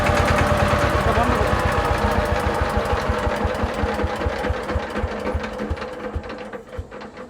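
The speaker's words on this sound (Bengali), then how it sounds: "ফাইন আছে একদম ফুল সেটিং আছে আসলে ইঞ্জিনটা" An agricultural shallow water pump engine runs loud and close with a steady rapid mechanical chugging beat, easing slightly toward the end.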